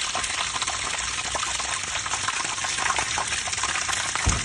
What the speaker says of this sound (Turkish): Şu an kazanın içindeki suyu boşaltıyor.